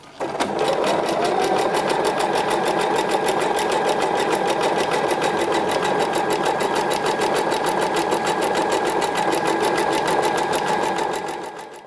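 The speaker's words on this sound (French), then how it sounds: "Et je vais commencer à faire un zigzag. Donc là, je fais le zigzag classique." Sewing machine running a classic zigzag stitch on a swimsuit lining, a fast steady mechanical clatter held loud and close for about eleven seconds.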